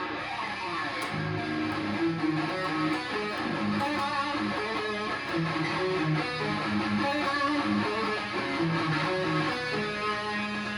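Guitar running up and down a pentatonic scale pattern, a steady stream of distinct sustained notes played alone at moderate level.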